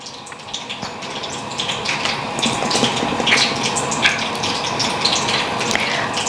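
Tap water runs steadily and fairly close while shrimp are rinsed after scaling, a continuous splashing gush with no talk over it.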